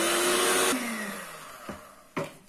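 An electric mixer whirs steadily as it blends cake batter with milk and oil, then its tone drops as it slows and stops, followed by a couple of light knocks, close and fairly loud.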